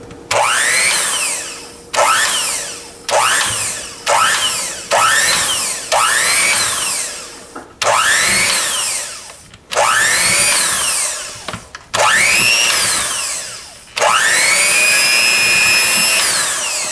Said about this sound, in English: So you're going to mix this, just pulse it on low for a little bit at the beginning, so you don't splatter everything everywhere.